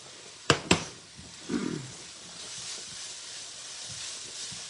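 Butter bubbling in a Brilliance skillet makes a steady, soft hiss that follows two sharp clicks at the start, with a short low rustle partway through.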